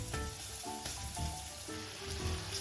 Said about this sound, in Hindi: इसको अच्छी तरह से हम अभी भून लेंगे।